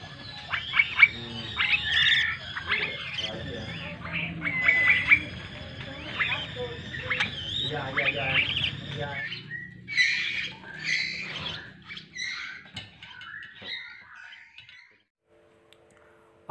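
Small caged zebra finches give busy, overlapping squawks and chirps, close and fairly loud, fading out near the end.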